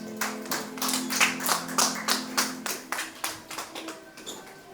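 A church congregation claps together, a burst of loud, rhythmic applause with a low hum of voices in the room behind it.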